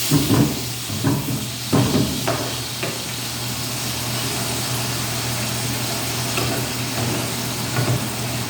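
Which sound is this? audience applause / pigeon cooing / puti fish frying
puti fish frying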